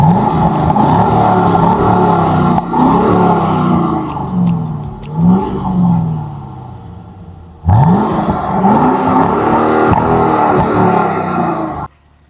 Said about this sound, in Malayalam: ഇതാണ് നമ്മുടെ ലെജൻഡറി V8 LS3 എന്ന് പറയുന്ന എഞ്ചിൻ